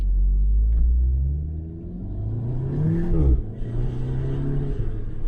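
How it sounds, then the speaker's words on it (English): Audi S3 with the EA888 engine accelerating hard on an open road, a loud, close, rising engine rumble and drone through the gears with a brief break and crackle at an upshift, no talking. "Those pops on upshifts are really loud"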